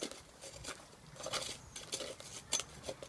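A tool scrapes burnt paint from inside an old metal paint kettle in quiet, irregular scratches and light metallic taps, fairly faint and close.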